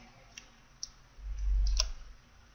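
Computer mouse clicking while opening a file, a few faint, sparse clicks over a low background hum with no talking.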